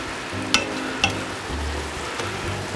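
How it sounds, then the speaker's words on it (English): Swiss chard sizzles softly in a pan, with a few sharp scraping clinks from a utensil stirring it at a steady, unhurried pace. "Let's give it a stir."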